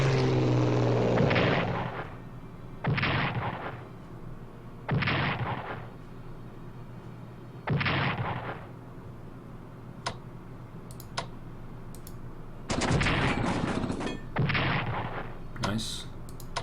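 Booming explosions from the WWII strategy game Strategic Command, 1944 Allied campaign, as a bombing raid hits Vitebsk: a run of separate loud blasts with short gaps between them, mixed with a few sharp clicks.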